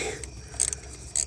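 A ratchet loosens a bolt on the purge valve solenoid of a 2010 Chevy Traverse, giving a few short metallic clicks and a scrape against faint background noise.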